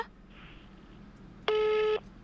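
A Roblox Brookhaven phone gives a loud, steady busy-signal tone of about half a second, sounding alone after a faint, quiet background.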